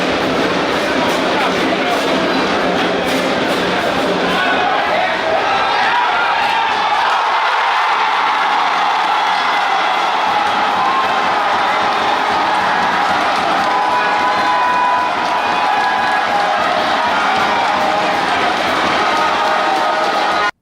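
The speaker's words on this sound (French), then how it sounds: "les deux équipes sont applaudies par le public qui semble satisfait du niveau de jeu" Football crowd at a match between Dynamo d'Abomey and Ayema applauding and cheering both teams after a draw, a steady broad roar with shouts and whoops throughout, loud and continuous.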